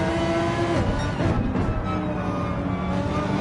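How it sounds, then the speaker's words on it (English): An Audi R8 chasing a BMW M6 around Brands Hatch in Gran Turismo 7, engines droning loud and steady with shifting harmonic whine as the cars accelerate, heard up close with no talk. "We are on board with the Audi R8 in pursuit of the BMW M6."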